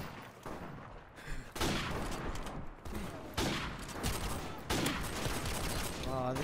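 Rapid bursts of M4 carbine fire crackle in a shooter video game, several loud volleys in quick succession with brief gaps between them.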